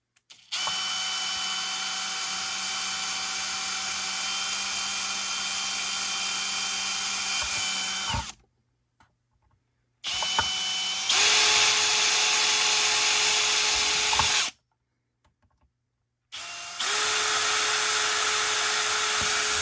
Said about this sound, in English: so I'll use a 3mm drill bit.